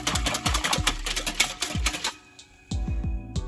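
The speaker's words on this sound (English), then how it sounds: "So I just whisk it." A whisk clatters rapidly against a container while mixing green vegetable juice made from celery, kale, spinach, ginger and cucumber. The fast rhythmic ticking stops briefly, then starts again.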